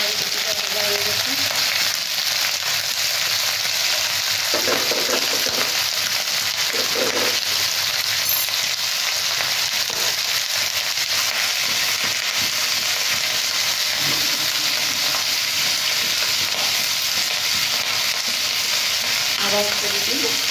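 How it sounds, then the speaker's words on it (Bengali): Roti fries in a pan with a loud, constant sizzling hiss close by, joined by occasional soft scrapes and knocks of handling and no voices. "রুটিটা ভাজা হয়ে গেছে।"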